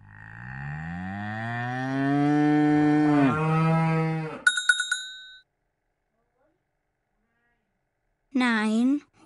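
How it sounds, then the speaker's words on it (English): Cows moo in a long, loud, drawn-out low call that bends downward, followed by a short bell-like ring, a pause of silence, and then a second briefer moo. "Nine cows."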